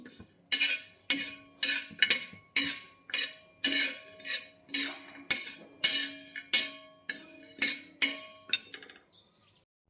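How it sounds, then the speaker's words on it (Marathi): Dry ginger and fennel seeds being dry-roasted in a pan, a spoon scraping and clinking against the metal in a steady run of about sixteen strokes, close and clear with no talk, ending in a brief pause. "तर इथं लागली मी आता सुंठ बडीशेप भाजायला थोडीशी आंबळ आंबळ भाजून घ्यायची"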